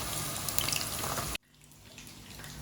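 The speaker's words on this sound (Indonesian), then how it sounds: "Ini kita goreng sampai agak ke kuning coklatan ya, coklat kekuningan." Pieces of belida fish fry in a pan of hot oil, giving a dense, loud sizzling hiss that cuts off abruptly partway through and leaves a quieter, softer crackle.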